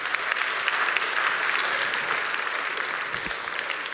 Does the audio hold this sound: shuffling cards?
no